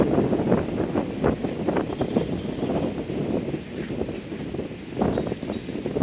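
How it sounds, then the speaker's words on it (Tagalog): Gusty typhoon wind roars across the microphone in uneven bursts, rising and falling over several seconds, with no talking. "Pabukso yung hangin."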